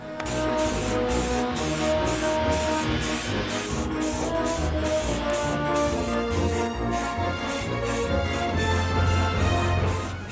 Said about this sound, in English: I have a couple cans of white spray paint.